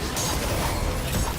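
Ace of Spades exotic hand cannon firing in Destiny 1, a brief, dense burst of crackling, mechanical gunfire heard on its own.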